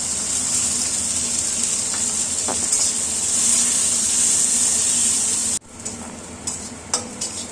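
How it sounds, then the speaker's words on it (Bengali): Cashews and raisins fry in hot ghee with a loud, continuous hissing sizzle and stirring scrapes, then the sizzle suddenly drops away into quieter clinks and stirs. "কাজু কিশমিশগুলো আমি হালকা ব্রাউন করে ভেজে নেব"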